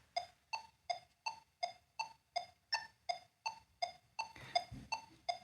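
A metronome clicking steadily in 4/4, with accented downbeats and clicks on the upbeats too, making an even run of sharp, bright ticks about three per second, fairly quiet and alone.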